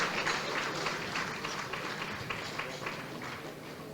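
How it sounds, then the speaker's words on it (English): Audience at an anniversary awards gala keeps up a steady wash of applause, moderately distant and fairly even, with many hands clapping together and no clear individual claps. "Can we have a little more applause?"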